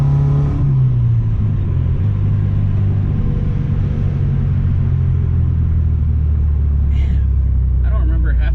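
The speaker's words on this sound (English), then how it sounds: "Tire spin." Car engine revving with tires spinning in snow during a snow squall, a steady loud low rumble that drones on throughout, with a brief rising whine near the end.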